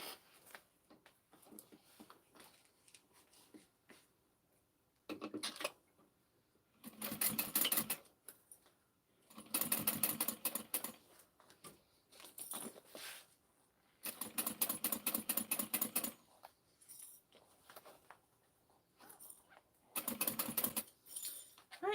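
A sewing machine stitches a backpack seam in quick bursts, rapid mechanical chattering runs of a second or two separated by quiet pauses, close and fairly soft.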